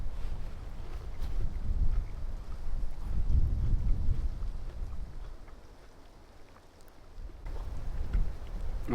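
Wind blowing at a mountain lake in Hallingdal, Norway, with gusty low rumbling on the microphone that swells, eases for a couple of seconds, then picks up again.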